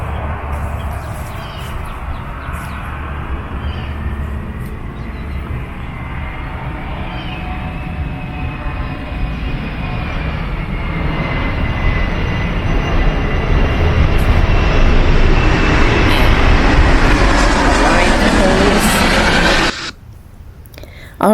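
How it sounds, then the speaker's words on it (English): A private jet or small training plane passing overhead near a busy airport, a steady broadband roar that swells louder toward the end before cutting off, heard outdoors by a front garden. "We've got private jets flying overhead and flying lessons"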